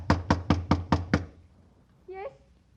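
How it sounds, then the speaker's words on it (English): Six quick, firm knocks on a door in an even rhythm, loud and close, followed by a pause and then a brief spoken reply. "waiting for a knock that had to come"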